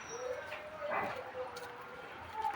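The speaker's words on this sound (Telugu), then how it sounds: "ఈ బళ్ళ కింద ఆ కుక్కలు పడుకుంటాయి" Dogs resting under street vendor carts beside open drains on a dirty city street, with a few short barks and yips standing out over steady traffic and street noise, moderately close.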